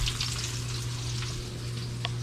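Tilapia fish frying in hot oil for a second batch, a steady dense sizzle with occasional louder pops and crackles, close and continuous with no talking.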